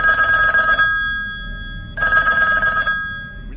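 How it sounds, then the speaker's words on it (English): A telephone rings late at night in an old building, two loud bursts of a steady electronic trill, each about a second long, with a pause between them and no one talking. "When the phone rang at 11 p.m."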